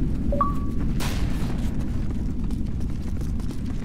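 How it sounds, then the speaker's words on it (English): A Predator missile strike explodes in a video game: one sudden, loud broadband blast about a second in that fades over the next half second, set against a constant low rumble of battle. "Friendly Predator missile inbound."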